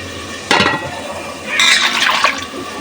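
Vegetables get washed in water by hand, with two bursts of splashing and sloshing that are close and fairly loud, the second longer and busier.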